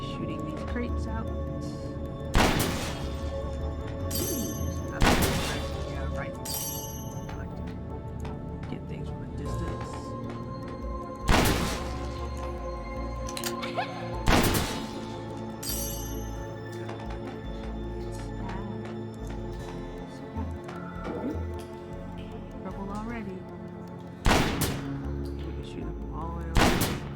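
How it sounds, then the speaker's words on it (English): In the Crown Trick video game, sharp shots and smashing crates burst out every few seconds over continuous game music, each impact loud and abrupt. "I'll be shooting these crates out"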